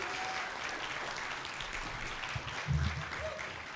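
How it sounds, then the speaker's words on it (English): Audience at a high school band spring concert applauding a trumpet choir: a steady wash of clapping hands from a seated crowd, moderately distant, holding evenly for a few seconds. "So let's give our trumpet choir a round of applause."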